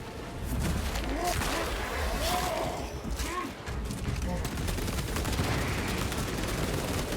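A Heroic Heavy Bolter fires in the video game Space Marine 2, producing a loud, sustained barrage of heavy automatic shots mixed with game effects and bits of in-game voice.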